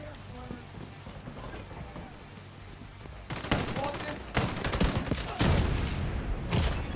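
Turret gunfire in The Division 2 video game, growing from muffled combat into loud rapid bursts in the second half, with speech mixed in among the shots.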